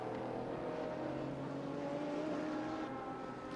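A Chevron race car passes at Sonoma Raceway during a vintage race, its engine a sustained, fairly loud drone that holds steady with a slight pitch shift as it goes by, with no talk over it.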